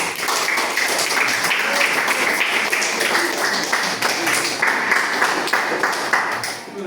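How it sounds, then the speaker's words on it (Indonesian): Students clap for a group in a classroom, a dense, steady patter of many hands that holds for about seven seconds and tapers off at the end. "tepuk tangan untuk kelompok 3"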